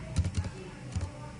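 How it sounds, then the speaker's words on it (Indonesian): A few soft keystrokes on a computer keyboard as a web address is typed, quiet clustered clicks in two short bursts over a faint background. "kita ketik ya belajar.com"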